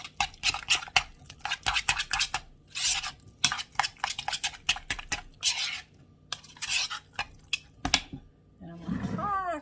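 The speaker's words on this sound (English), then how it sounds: "so I'm just going to mix this up." A spoon stirs seven layer dip in a bowl: repeated close scraping and clinking strokes in an uneven rhythm, with short pauses, then a voice at the end.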